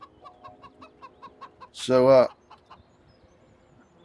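Chickens on a farm in the Farming Simulator 17 video game give a short run of soft rhythmic clucks, then one loud, drawn-out squawk or crow, with light game sounds afterward and a brief spoken word.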